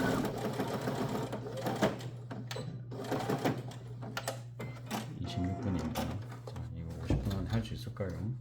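A sewing machine set to stitch size 3 runs a line of stitching down the centre channel of a fabric bag, a close, steady mechanical whir with quick needle clatter, with a voice talking over it throughout.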